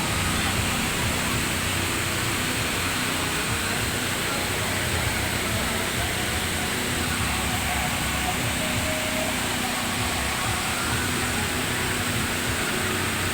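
Rushing water at Wawa Dam in Montalban, Rodriguez, Rizal, a dense, steady roar that fills the whole stretch at a constant level with no break.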